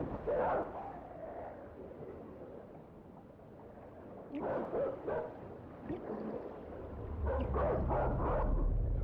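A dog near water in the video game INSIDE gives scattered barks and yips in short bursts. A steady low rumble of game ambience runs underneath and swells toward the end.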